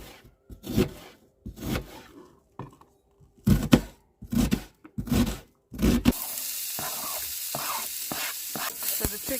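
Onions and garlic browning in a pan for a bean dish in a caravan kitchen, with intermittent stirring scrapes and soft thuds, then a steady hiss of sizzling near the end.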